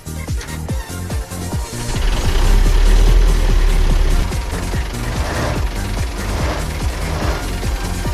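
An Ursus 904 tractor engine close by clatters and knocks rhythmically, swelling louder and rougher as it catches, then settles into a steady running rumble with no talking.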